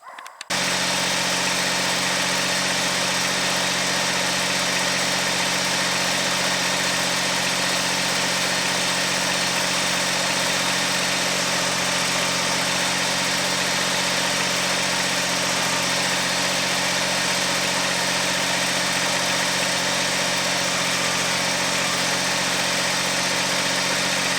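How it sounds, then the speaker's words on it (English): A tractor's steady diesel engine drones continuously at a constant idle-like pitch while its backhoe digs, loud and close, with no pauses or talking. "Using the backhoe of the tractor, you can see how I'm digging this out."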